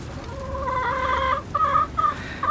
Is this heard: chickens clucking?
yes